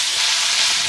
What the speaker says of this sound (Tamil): ஓகே, இது கொஞ்சம் நல்லா தாளிக்கட்டும்.